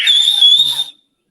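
A single steady, high Silbo Gomero whistled-language tone from a nearby person, held for under a second and then cut off into silence.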